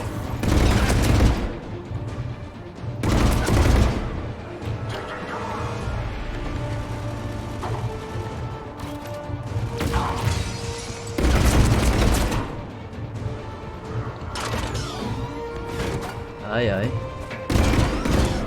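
Mounted gun fired by a trooper in the Mass Effect 3 battle on Rannoch, heard as loud bursts of heavy automatic fire with booming impacts, broken by short pauses and mixed with battle noise, while voices call out over the combat.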